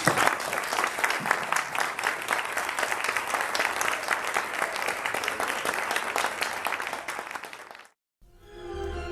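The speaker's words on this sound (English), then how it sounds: "I hope you guys give yourselves a big round of applause" Audience at a physician awards ceremony breaks into sustained, dense applause that holds steady for several seconds, then dies out into brief silence before a faint room sound returns.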